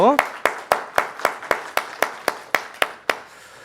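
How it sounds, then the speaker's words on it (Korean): A church congregation claps for the worship team after the service music. About a dozen sharp, evenly spaced claps ring out in a steady unison beat, fading slightly after each hit, with a brief voice at the very start. "찬양팀에게도 우리 감사의 박수로."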